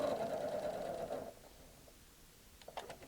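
A Janome Memory Craft 6500P sewing machine runs a short burst of stitching, a close, steady motor whir lasting just over a second that stops abruptly. A few faint clicks follow in near silence.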